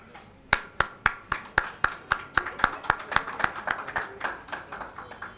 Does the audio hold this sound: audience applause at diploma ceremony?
yes